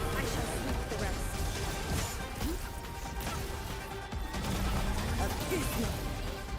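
Gunfire from a weapon in Arknights: Endfield: a quiet, continuous clatter of sharp shots and impacts mixed with rumbling battle effects, with a voice speaking over the action.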